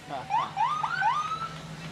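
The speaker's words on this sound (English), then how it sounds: "We have ambulance 341 coming up for the fire department." A rising and falling electronic ambulance siren wail sounds briefly at moderate distance over a low steady hum, during an Independence Day parade in Carmel, Indiana.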